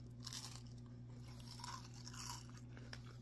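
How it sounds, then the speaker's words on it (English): Crisp cooked string beans being chewed, with a few close, faint crunching bites over a low steady background hum. "Listen to the crunch."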